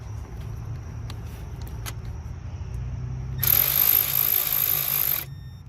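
A power tool spins for about two seconds, a bright whirring burst, while an alternator bolt is tightened from the top on a Honda CR-V, preceded by faint clicks and shop noise.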